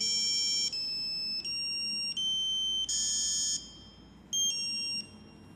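Alarm buzzer under test in a lab project gives a run of loud, high electronic beeps in short tones of several pitches, stopping and restarting with brief gaps and one longer pause near the end.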